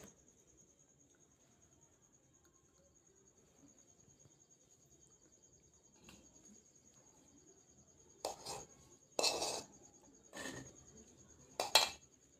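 Scissors cut fabric along marked lines for a blouse katori. After a long near-silent stretch, four or five crisp, close snips come in quick, uneven succession.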